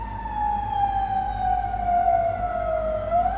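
A fire truck siren wails loudly and steadily for the whole stretch, its pitch sliding slowly downward with no one talking over it.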